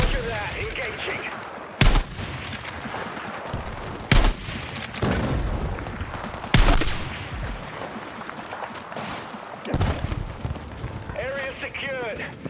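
Battlefield 6 campaign combat on a rocky island assault, with sharp gunshot bursts cracking out every couple of seconds over a constant background din of battle, and voices talking throughout.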